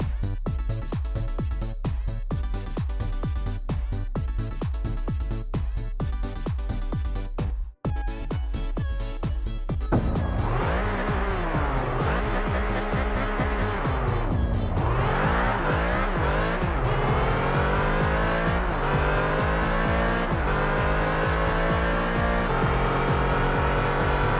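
A Pagani supercar in a video game revs hard through rhythmic gear pulses, then sweeps into long rising and falling engine tones with tire squeal, loud and continuous with no talking.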